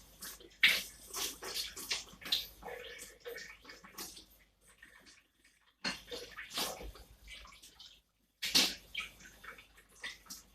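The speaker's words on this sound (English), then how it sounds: "I'm just washing the cover" Running water splashes and patters as a pot cover is rinsed and scrubbed in a kitchen, in uneven bursts with a brief pause midway, close but moderate in level.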